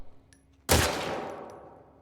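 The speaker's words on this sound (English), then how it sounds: "Start shooting someone else's target on the range." A single loud gunshot at a shooting range in the video game The Last of Us Part II cracks in sharply and rings out with a long decaying tail, preceded by faint quiet background.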